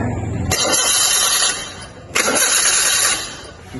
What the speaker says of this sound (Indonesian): sekarang kita coba starter ya, kita coba hidupkan mesinnya